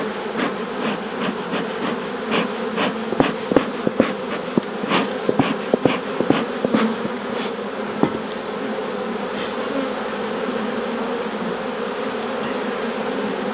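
Agitated honeybees buzz in a steady, dense hum at an open hive after a sting, with a scatter of sharp taps and knocks from hive tools in the first half.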